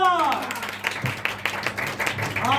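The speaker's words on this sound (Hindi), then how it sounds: "तालियां।" A burst of clapping from a small crowd, scattered claps overlapping, with a voice speaking at the start and end.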